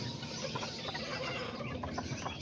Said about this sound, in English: And then that's the little chicken.